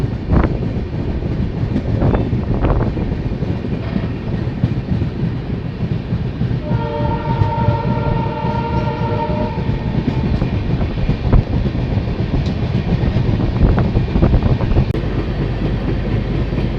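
A Garib Rath express train leaving Kokrajhar station on a monsoon hill route rumbles along the tracks with a steady roar and rhythmic clatter, and a long horn blast sounds partway through.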